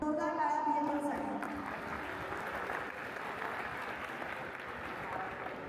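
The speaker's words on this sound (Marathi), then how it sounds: "जोरदार टाळ्या BMMसाठी." Sustained audience applause from a large crowd at a Marathi Maitri Melawa community gathering in the USA, dense steady clapping that fills the room and carries on evenly after a brief voice at the start.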